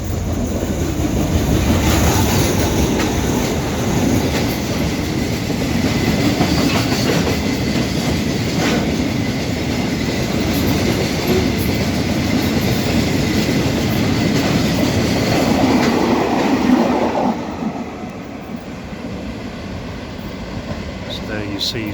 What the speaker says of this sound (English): Got a freight train.